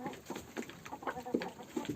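Hens recovering from laryngotracheitis cluck softly in a few short, faint bursts nearby.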